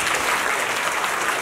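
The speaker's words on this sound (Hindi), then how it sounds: "ऐसी तालियां बजते रहेंगी तो मैं माइक ही नहीं छोड़ूंगा" A short burst of thick, continuous audience applause at a live performance, loud and unbroken with no voices audible.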